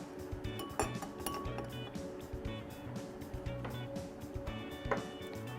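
A spoon stirs curdled milk in a bourbon cocktail mixture made with Jim Beam Black, giving light glassy clinks and taps in irregular bursts over a steady low background hum.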